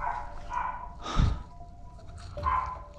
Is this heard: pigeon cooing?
no